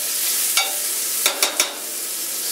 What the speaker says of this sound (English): Minus the grease, but I'll just wipe all that out.